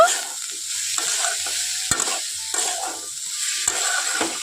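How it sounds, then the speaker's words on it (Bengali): Spice paste of turmeric and ground chili with a little water stirred in a pan over heat, close up, with repeated scraping strokes and soft sizzling in an even rhythm; nobody speaks. "এখন মশলাগুলো দিয়ে খুব ভালোভাবে নাড়াচাড়া করে নেব"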